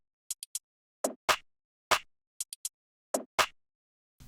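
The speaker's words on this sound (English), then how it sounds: "just a normal Perc." Short dry percussion hits from an RnB beat, played alone: quick clicky taps in small clusters with a couple of fuller, brighter snaps between them, spaced irregularly across a few seconds.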